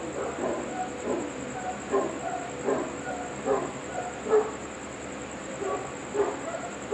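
Dogs barking repeatedly in short bursts at a moderate distance, over a steady high-pitched background hum.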